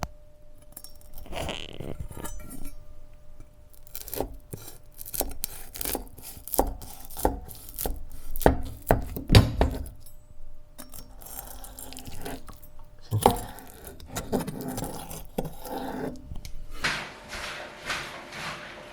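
Crispy Friulian frico is cut in a quiet kitchen, giving irregular bursts of sharp crackling crunches with brief pauses between them and a louder flurry near the middle.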